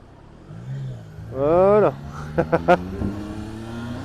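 Triumph Trident 660 motorcycle engine idling, then revved in a sustained rising burst followed by three short sharp blips, close by, with someone talking briefly before and after.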